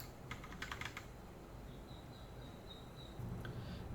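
A password is typed on a computer keyboard, a short quick burst of soft, close key clicks followed by quieter scattered taps over a faint background hum.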